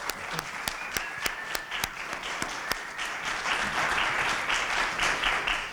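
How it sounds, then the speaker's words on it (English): An audience at a college elevator pitch competition gives a round of applause, sharp separate claps at first that build into a steady, full wash of clapping. "let's give them a round of applause."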